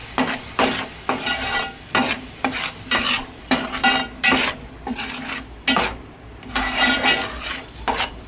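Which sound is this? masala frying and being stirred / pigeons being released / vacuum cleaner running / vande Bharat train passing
masala frying and being stirred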